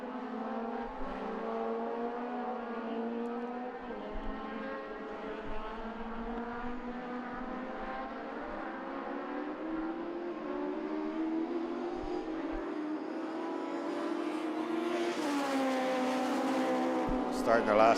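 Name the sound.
race cars lapping the Mondello circuit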